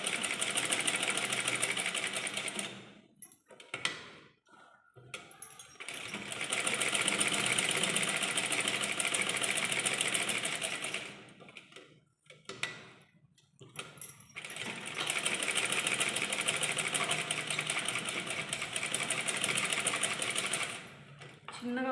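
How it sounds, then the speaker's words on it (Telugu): Sewing machine running in three long stitching bursts with short pauses between them while cloth is turned by hand, a steady mechanical whir that stays loud and close. "కుట్టుకుంటూ క్లాత్ని తిప్పుతూ ఉండాలి"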